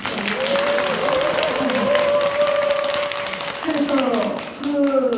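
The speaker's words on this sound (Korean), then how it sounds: "박수 한번 치십시오." Audience at a Buddhist temple dharma talk applauding, a steady wash of clapping lasting several seconds while a voice keeps talking over it, with a brief dip near the end.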